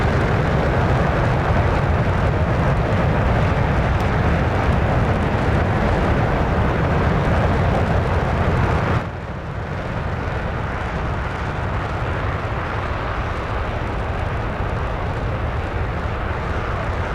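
An F-15 fighter jet climbs at high altitude in a combat flight video game, giving a loud, continuous roaring engine rush that drops abruptly in level partway through and then carries on somewhat quieter.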